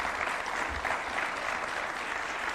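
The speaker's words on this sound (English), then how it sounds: "A round of applause for His Excellency one more time" An audience at a presidential launch event for a refugee and host community plan applauds after a speech, a dense, steady clapping that fills the whole clip without a break.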